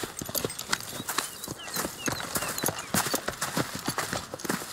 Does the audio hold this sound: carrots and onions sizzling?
no